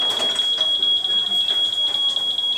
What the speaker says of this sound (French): Monsieur, le bip a sonné.